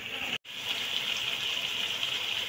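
Water poured into fried meat curry of mutton with tomato paste in a home kitchen pot, a steady continuous gushing stream running throughout after a brief pause near the start.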